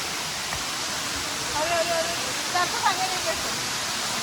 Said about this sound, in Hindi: about to reach Chakratirtha waterfall